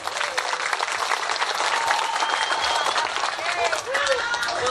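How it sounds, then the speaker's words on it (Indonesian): A crowd applauds at an Islamic religious lecture event in West Bandung, with steady, dense clapping that fills the whole stretch. Voices and shouts carry over the clapping. "Tepuk tangan untuk semuanya."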